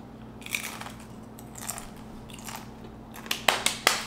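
Pickle-flavored corn chips from Aldi bitten and chewed up close, with a series of crisp crunches that turn sharper and louder toward the end and no talking.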